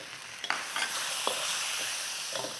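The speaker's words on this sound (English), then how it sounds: "I'm using a carbon steel wok, so I'm not worried about getting any non-stick problems with this" Schezwan green beans stir-fried in a carbon steel wok, a steady bright sizzle broken by several quick scrapes and tosses of the spatula, loud and close, with no voices.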